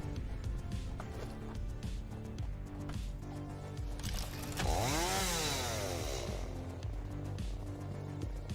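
A chainsaw in the video game Satisfactory runs steadily throughout, with a rising and falling rev swell near the middle, loud and close with no talking.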